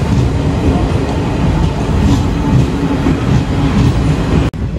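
A moving passenger train is heard from inside a B1 AC 3-tier coach in India. There is a loud, continuous rumble with rhythmic wheel clatter, steady and close, ending in a brief sharp dropout near the end, with no talking.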